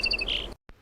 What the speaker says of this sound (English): sparrow